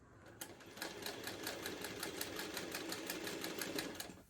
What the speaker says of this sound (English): Start sewing our seam and then I can match the rest up.